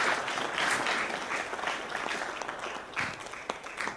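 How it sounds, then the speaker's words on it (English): Sustained audience applause at an awards gala honoring influential Asian American and Pacific Islander figures in Georgia, steady and full-room for the whole stretch, with a few louder claps standing out near the end. "Let's give her another round of applause."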